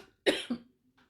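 A single short double cough, close and fairly loud, followed by quiet.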